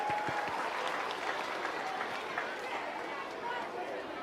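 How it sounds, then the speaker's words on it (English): Children at a junior school assembly for a public speaking competition applaud in a soft, continuous patter of many hands, with chatter and voices mixed under it. "Give yourselves a round of applause."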